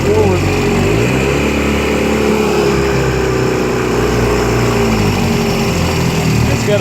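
A 1954 Johnson RDE-16 25hp outboard motor idles loudly and close on a lake, a steady, throbbing low drone that holds unbroken from start to finish.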